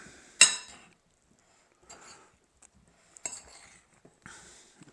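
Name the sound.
stirring shredded cheddar cheese into meat and peppers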